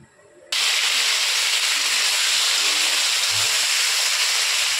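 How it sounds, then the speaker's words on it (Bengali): Cauliflower florets dropped into hot oil with turmeric, a sudden loud rush of sizzling that starts abruptly and holds as a dense, steady hiss close by. "তেলের মধ্যে অল্প হলুদ দেবো, দিয়ে ফুলকপিগুলো ভেজে নেব"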